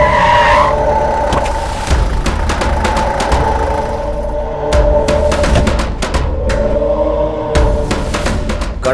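A car pulls away with its tires skidding and squealing, a loud engine roar under repeated sharp screeches and thumps that lasts for about nine seconds.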